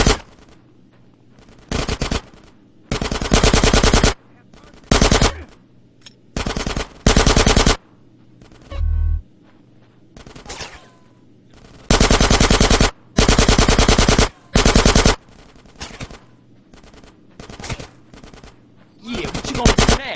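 Gunfire in the video game GTA San Andreas: loud, close bursts of rapid automatic fire, some long and some short, separated by brief gaps where faint shouting voices and background game noise come through.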